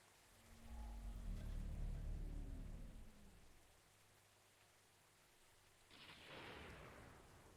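Rain falls in a dark Cthulhu-themed adventure game, a soft steady hiss with a low rumbling swell early on that fades, then a brighter burst of splashing rain, all fairly quiet with no voices.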